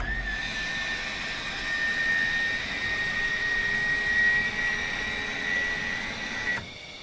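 A simulated fighter jet engine in the Falcon BMS flight simulator winds down after the throttle is cut, a steady whining roar with a high tone holding until it drops away near the end.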